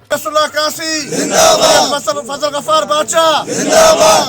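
A crowd of employees shouting rhythmic slogans in unison at a union gathering, loud and close, with repeated chanted bursts separated by short pauses.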